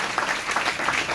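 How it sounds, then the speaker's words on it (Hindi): A church congregation claps during a Sunday service, a brief, soft patter of applause with no voices. "जोर से तालियां बजाएगा"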